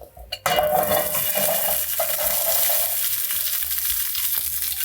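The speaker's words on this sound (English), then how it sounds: "Now we're gonna add some olive oil to this pan just to cover the bottom, and in go our carrots." Carrots drop into hot olive oil in a sauté pan over medium-high heat and set off a loud, steady close sizzle, with a clatter of the pan at the start.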